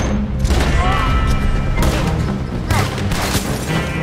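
Gunfire in Red Dead Redemption 2, a volley of loud, close shots and booms rolling through the scene in bursts, with game sounds and some voice underneath.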